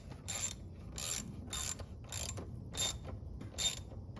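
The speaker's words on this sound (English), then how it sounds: "Now we'll get our 8mm socket so we can tighten down these clamps." An 8mm socket ratchet snugs down radiator hose clamps on a 2013 Chevy Tahoe during a radiator replacement, six evenly spaced bursts of fine clicking, close and clear with no talk.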